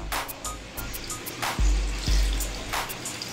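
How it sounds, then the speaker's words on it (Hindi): Water poured into a blender with lychees and ice for juice, a soft splashing fill with a couple of low thumps from the jar, close by and without speech. "और इसके अंदर पानी ऐड कर देंगे।"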